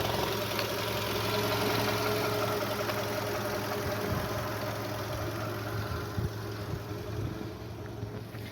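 A Volkswagen Golf 1.6 MPI with 186 thousand km on it idles quietly, a steady low engine hum running evenly throughout without any speech.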